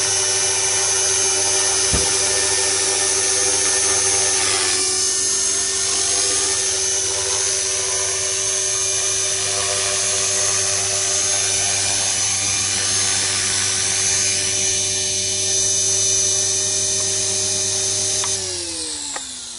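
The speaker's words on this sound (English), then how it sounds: "Successful auto mission with the 450 helicopter." A 450-size RC helicopter, flying an automatic waypoint mission on ArduCopter, hovers close by with a steady high-pitched motor and rotor whine, its pitch shifting slightly as it sets down and spools down at the end.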